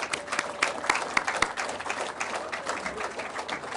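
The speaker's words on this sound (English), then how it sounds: "Would all those seated please give a huge round of applause for everyone standing?" A seated crowd at Reform's East Midlands conference applauds steadily, with dense continuous clapping and a few sharp individual claps standing out.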